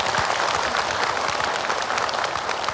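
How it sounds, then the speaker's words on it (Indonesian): A studio audience claps loudly and steadily on an Indonesian television religious talk show, a dense, close wall of many hands with no break from start to finish. "Boleh tepuk tangan Ibu."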